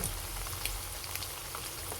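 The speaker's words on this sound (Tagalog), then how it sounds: "ipiprito lang po natin ito saglit, guys, para mag-brown lang yung outer part" Pork meatballs browning briefly in a hot pan for a bola bola soup with miswa and patola, giving a steady, dense crackling sizzle that holds even throughout, close and moderately loud with no voices.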